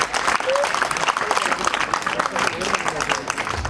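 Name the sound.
audience applause at school annual function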